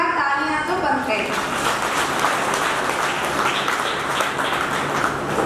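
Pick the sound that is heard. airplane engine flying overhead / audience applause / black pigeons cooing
audience applause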